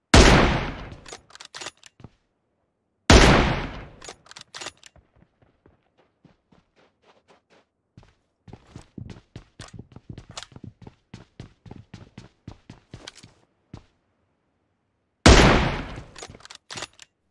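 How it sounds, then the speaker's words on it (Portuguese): Gunfire from a weapon in PUBG Mobile, heard as sharp loud bursts at the start, around three seconds and near the end, with a quieter run of rapid clicks or footsteps in between. "O barulho dessa arma tá muito feio"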